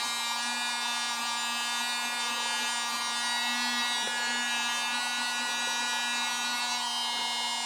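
A tiny handheld vacuum cleaner running continuously in a games room, a loud steady high-pitched electric motor whine with a constant buzzing hum and no talking.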